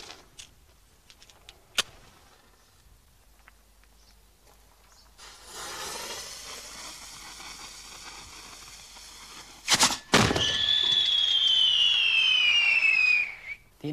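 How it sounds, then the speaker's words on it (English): A few quiet clicks and rustles, then a rising hiss, a sharp bang of a firework mortar launching, followed by a loud whistling shriek descending in pitch. "This is actually a firework mortar, and it forces out this cylindrical shell"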